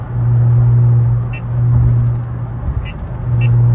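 A loud twin-turbo Infiniti Q50 cruising on a road in upstate New York, giving a steady close low engine drone that swells and eases, with a few faint high chirps above it.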